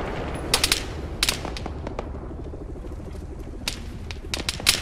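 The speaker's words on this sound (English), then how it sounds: "Oop, you're being shot at. A lot." Arma 3 combat gunfire crackles in repeated bursts, sharp rifle and machine-gun shots snapping over a steady rumbling background, some louder and closer than others.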